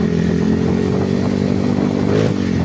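A motorcycle engine on a test ride after shop tuning, with a leaking exhaust pipe, runs loud and steady close by, with a slight rev toward the end.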